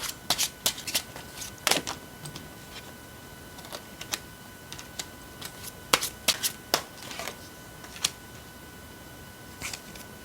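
Tarot cards being shuffled in a series of crisp, irregular riffles and snaps, close and fairly quiet, with no voices.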